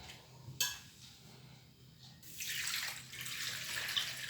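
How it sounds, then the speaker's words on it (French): Lukewarm water is poured into a bowl for homemade pizza dough, a quiet steady splashing stream starting midway after a small knock, close and faint. "On va mettre de l'eau."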